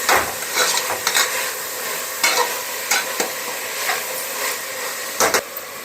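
Tomato and greens sizzling in a hot pan while a spoon stirs and scrapes, steady frying hiss broken by repeated clanking stirs, close and loud.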